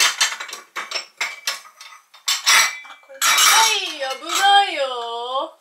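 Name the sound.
plates and dishes being handled while choosing a plate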